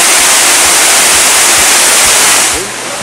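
A waterfall on a walk in Scotland or Wales roars as a loud, steady wash of white noise that fills everything, easing slightly near the end.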